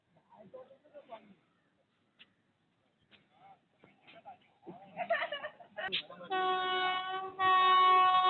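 A Vande Bharat train arrives at Tirunavaya station. Its loud, sustained horn sounds in two blasts near the end, after a stretch of quiet talk and faint platform noise.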